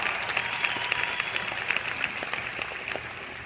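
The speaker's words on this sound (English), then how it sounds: "Clap your hands" Audience applause at a Scentsy Family Reunion 2014 gathering, a dense steady patter of many hands clapping together, fairly close and even in level throughout with no voices standing out.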